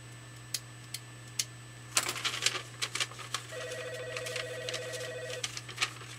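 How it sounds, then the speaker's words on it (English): Scattered sharp clicks and light rustling over a steady low hum, with a few brief tonal beeps partway through; quiet room ambience, no voices. "I heard the clicking of pens and papers rustling."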